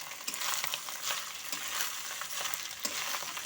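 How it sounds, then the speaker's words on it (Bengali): Cooked rice is worked together with salt, ginger, green chili and ghee for coriander rice, producing a continuous soft rustling, scraping hiss that stays steady and close throughout. "সমস্ত কিছু দিয়ে ভাতের সাথে আমি এখন ভালো মতো করে মিশিয়ে নেব,"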